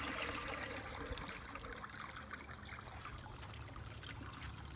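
A 1961 Standard Cadet toilet tank refills after a flush, with a steady trickling and rushing of water running throughout at close range, fairly quiet and continuous with no voices.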